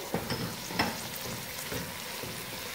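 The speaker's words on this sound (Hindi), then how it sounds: "कीमा शामिल करने के बाद थोड़ा सा फ्राई करेंगे प्याजों के साथ" About 700 grams of minced meat fries with onions and ginger-garlic paste in a pan, a close, steady sizzle broken by a few spoon scrapes and stirring knocks.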